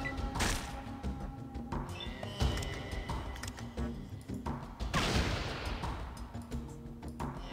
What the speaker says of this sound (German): Und jetzt können wir sie nämlich sogar noch mal schießen.